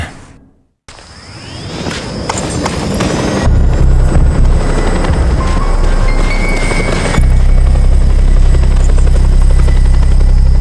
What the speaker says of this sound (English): A chopper! Seems my ride's here!